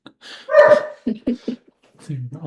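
A dog in a back room letting out a loud bark followed by short yips and whimpers, close and intermittent, with someone talking in between.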